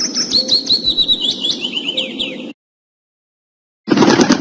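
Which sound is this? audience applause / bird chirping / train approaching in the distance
bird chirping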